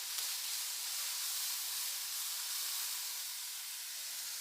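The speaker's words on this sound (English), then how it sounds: "Now add tomatoes, 1 chopped tomato. Saute it for a while." Chopped tomato sautés in a pan, giving a steady, faint, even hiss of frying with no voices.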